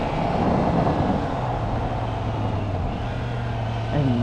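A 2021 Triumph Trident 660 motorcycle being ridden, with a steady engine drone and wind rush and a falling pitch as it downshifts, close and loud.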